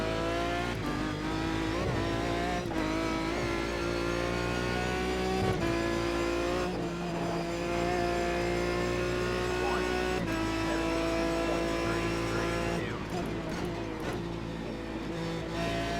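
GT1 race car lapping Road Atlanta in the iRacing sim, engine droning steadily close up with pitch rising and falling through gear changes, a few brief dips at shifts and faint tire noise, no talking.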